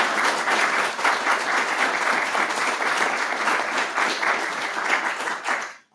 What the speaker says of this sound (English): Can you can that applause and we can use it every time?